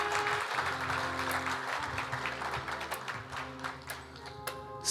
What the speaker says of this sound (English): please give a round of applause for Miss Beckee Garris